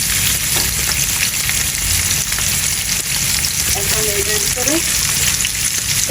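Onions fry in a karahi with a loud, dense, unbroken sizzle, and a few faint stirring sounds come through near the end.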